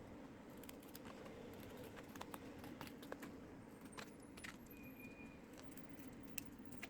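Scissors snip through fairly stiff paper while a small decorative vase is being made: a run of quick, light, crisp cuts ticking close by in a quiet room, with no talk.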